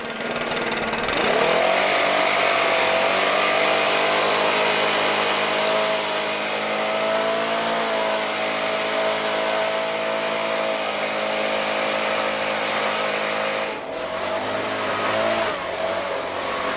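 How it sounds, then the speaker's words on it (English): A leaf blower runs steadily and loud throughout, blowing debris out of the interior of a rat-infested, moldy 1977 Lincoln Continental Town Car, its motor drone briefly dipping near the end before resuming. "I think I'm just going to fire up the leaf blower and see what shakes down"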